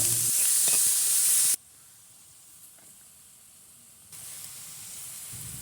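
Whole cumin seeds fry in hot oil with a loud, bright hiss that cuts off abruptly, leaving near quiet for a few seconds before a softer, steady sizzle returns.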